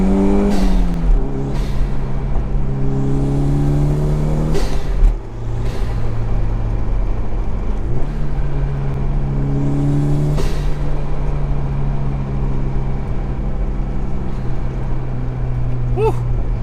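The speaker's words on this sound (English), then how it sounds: "I fucking love driving this car" A Toyota MR2's engine drones loudly and continuously from inside the car as it drives, its pitch climbing and dropping through several rev sweeps, with a brief dip near the middle.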